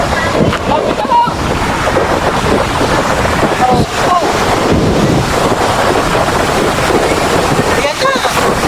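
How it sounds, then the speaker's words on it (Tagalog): Strong waves surge during a flood, a loud rushing wash of water with heavy wind buffeting the microphone, and excited voices talk over it. "Yan na po ang alon. Ay, malakas na nga."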